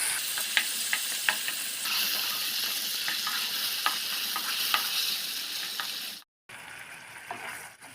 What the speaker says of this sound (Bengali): চিংড়িগুলো আমি বেশি ভাজবো না